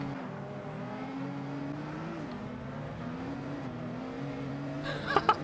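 Group 1 race cars roaring around a track in Gran Turismo, several engines droning steadily with rising and falling pitch as they rev and shift, ending with a few sharp higher-pitched bursts.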